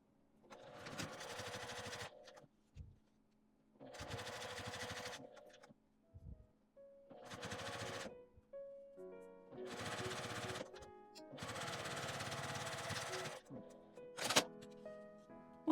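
A sewing machine runs in several bursts of steady, buzzing stitching along the edge of a zippered pouch's fabric, each lasting a second or two, separated by short pauses and soft clunks.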